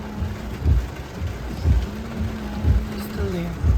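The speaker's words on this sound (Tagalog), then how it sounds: "It's raining" Rain patters at a campsite in Virginia Beach, a soft steady wash of drops under a low rumble and occasional soft thuds, with people talking faintly in the background.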